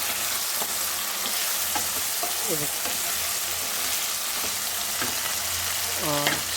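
Potato pieces frying in a pan for aloo matar pulao, a steady loud sizzle throughout with a few scraping stirs and brief clinks near the end.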